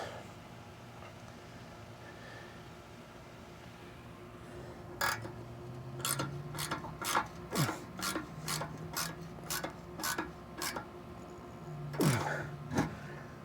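A ratchet wrench clicks in a quick, even series of sharp ticks while turning a nut on a Jeep TJ exhaust, close and moderately loud, with a short pause and a final couple of clicks.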